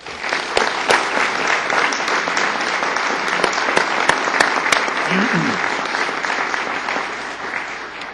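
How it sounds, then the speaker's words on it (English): Steady, full applause from a sizeable crowd at a governor's press conference, honoring a man with an education background, continuing evenly throughout with a few sharper individual claps standing out. "Please give him a round of applause"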